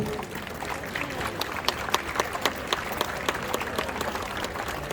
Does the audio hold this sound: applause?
yes